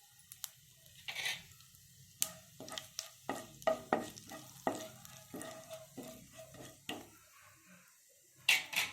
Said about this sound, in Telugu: ఆయిల్ వేడెక్కింది. ఇప్పుడు 1 స్పూను జీలకర్ర వేసాను.